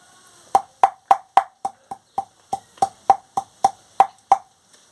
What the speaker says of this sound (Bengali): আমি রসুনটা আর লঙ্কাটা ছেঁচে নিচ্ছি